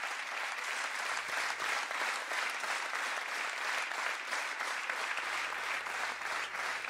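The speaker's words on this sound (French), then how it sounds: "sous vos applaudissements" Steady, dense applause from an audience at the Elwa d'Or 2012 awards ceremony, loud and continuous throughout with no pauses or speech.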